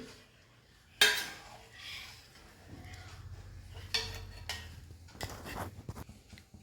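A spoon clinks and scrapes against a pot while payasam made with khova powder in milk is stirred, giving sharp metallic knocks and soft swishing at close range.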